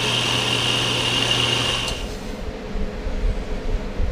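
Wood lathe parting off a lidded wooden box, a close, steady high-pitched cutting whir with a low hum that cuts out about halfway, leaving quieter room noise.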